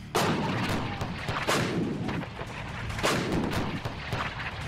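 M777 howitzer cannons firing, three heavy booming blasts spaced about a second and a half apart, each followed by a long rumbling roll, loud with no speech.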